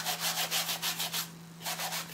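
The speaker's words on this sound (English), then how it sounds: "I just got my little sanding block." A small sanding block rubbed over painted wood, producing brisk back-and-forth scratchy strokes in a steady rhythm, close and alone with a low hum beneath and a short pause before the strokes resume.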